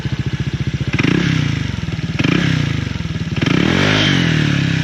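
A motorcycle engine revs up three times in a row, its exhaust giving a deep, throbbing rumble between bursts, loud and close.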